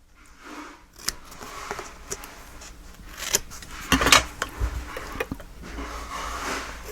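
Scissors trim paper during mini album papercraft: a few sharp snips and crisp paper rustles, close to the microphone, scattered irregularly over a quiet background, with no speech.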